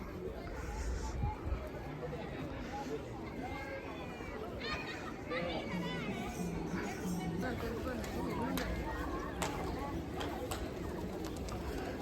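Pigeons coo and flutter in the Pashupatinath temple courtyard in Kathmandu, a continuous close flock sound over a dense murmur of crowd chatter.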